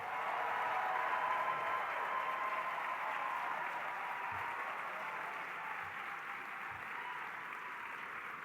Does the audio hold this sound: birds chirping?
no